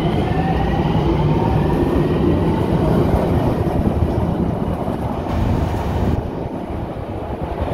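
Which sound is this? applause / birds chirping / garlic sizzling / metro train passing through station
metro train passing through station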